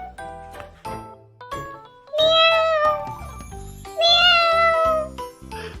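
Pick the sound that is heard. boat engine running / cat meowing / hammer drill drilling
cat meowing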